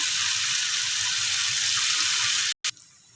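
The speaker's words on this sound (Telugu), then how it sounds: "దీనిలోకి 1 గ్లాస్ వాటర్ పోసుకుందాం" Water pours steadily and noisily into a pan of amaranth-leaf and liver curry for a couple of seconds, then stops abruptly, leaving a faint hiss behind.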